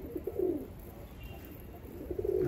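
A tumbler pigeon near a coop gives soft, low cooing phrases, one near the start and another toward the end, over quiet outdoor background.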